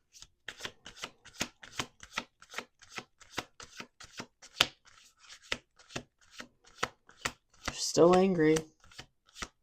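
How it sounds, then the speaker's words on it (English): Steady riffle-shuffling of a card deck with sharp, evenly spaced snaps and flutters. A voice speaks briefly near the end. "let's do one more shuffle"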